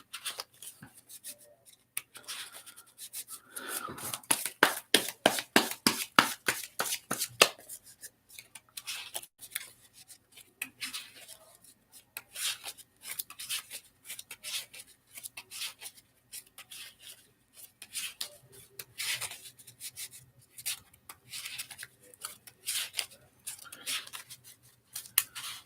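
Cards riffle in a fast burst of crisp flutters, followed by scattered shuffling and sliding rustles, close and fairly quiet.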